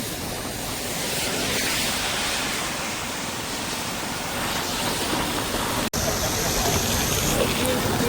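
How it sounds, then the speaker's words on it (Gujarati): Rain runoff gushing heavily from a house drain, a loud unbroken rush of flowing water close by, with a brief cut partway through. "ઘરનાળાથી પાણી આવે છે ખૂબ અતિશય"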